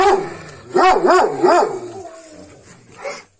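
A Zagar hound bares its teeth and barks close by in a loud burst of three or four sharp, rising barks, followed by quieter growling yips that trail off.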